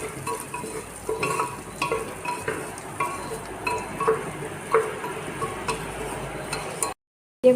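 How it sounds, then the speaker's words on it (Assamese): Masoor dal is stirred in a pressure-cooker pot with a spoon, giving a steady series of soft scraping, clinking strokes over a low sizzling background, close and alone without talk. "এতিয়া আকৌ ভালদৰে লৰাই লৈছোঁ।"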